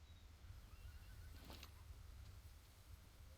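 A horse whinnies briefly in the Realm Royale video game, a short faint neigh over a steady low game hum.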